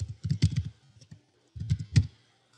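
Someone typing on a computer keyboard, close and clear, two quick bursts of soft clacking keystrokes separated by a short pause.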